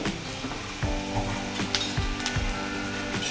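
Sliced onion fries steadily in a pan as it turns reddish, a continuous close sizzle with a few soft scraping stirs across the surface.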